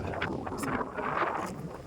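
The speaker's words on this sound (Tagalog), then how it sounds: "Ang lakas ng hangin guys." Strong wind roars and buffets the microphone continuously during a motorcycle ride in Tanay, Rizal, a loud rushing gust with no voices.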